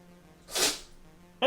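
A single sharp sneeze bursts out mid-clip over a faint steady hum, with a brief louder noise at the end.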